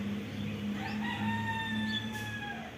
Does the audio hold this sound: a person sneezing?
no